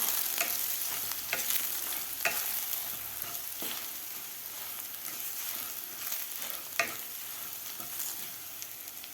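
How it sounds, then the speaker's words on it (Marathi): Ground spice paste sautéing in a pan, a soft, continuous sizzle with faint scraping stirs and an occasional tick, fairly quiet and steady with no voices. "वाटणसुद्धा आपल्याला दोन मिनिट चांगलं परतून घ्यायचं आहे"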